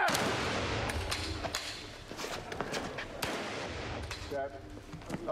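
Test shot from a gun fired on a film set, heard as a sharp burst followed by several loud cracks and rumbling echoes over a few seconds, with crew noise around it.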